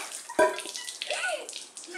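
Green Fanta is poured onto a person's head in a short, quiet liquid splash with a sharp initial spatter followed by trickling and dripping.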